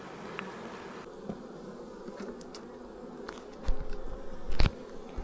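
Honey bees drone steadily around a varroa-infested hive in remote New Zealand bush, a close continuous buzz with several bees passing near, plus a few louder bumps and handling knocks toward the end.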